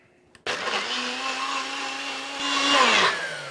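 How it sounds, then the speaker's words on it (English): A NutriBullet high-speed blender starts abruptly and whirs loudly and steadily while blending soaked cashews into vegan hollandaise, its pitch shifting and swelling toward the end. "So let's blend this up and see what we get."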